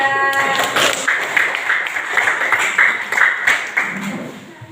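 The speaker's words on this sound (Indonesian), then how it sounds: "tepuk tangan untuk kelompok 3" A classroom of students claps for a presenting group after a school lesson on addictive substances: a burst of scattered, uneven hand claps at close range that continues through the clip as voices sound over it.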